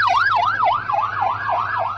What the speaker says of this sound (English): Ambulances rushed to the area to rescue the wounded